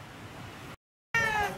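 A cat meows once, close and clear, with a tonal rising-and-falling call after a brief gap of silence, over faint room noise.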